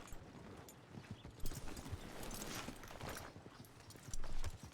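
A horse's hooves clip-clop at a walk in a Wild West roleplay video game, in a steady, moderately close rhythm over faint background sound.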